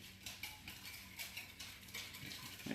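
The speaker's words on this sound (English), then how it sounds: "All the while whisking, whisking," A whisk beating Caesar salad dressing in a bowl, making quick rhythmic scraping ticks that repeat steadily and quietly, close up, with no talking.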